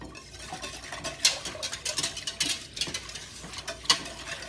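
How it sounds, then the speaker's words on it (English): A whisk clinks and scrapes rapidly against the inner pot of an Instant Pot while yogurt cultures are beaten into milk, an irregular run of close, light metallic taps. "whisk that together"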